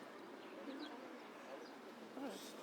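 Pigeons in the Podil district of Kyiv coo softly in a few short, faint calls, repeated over a quiet outdoor background.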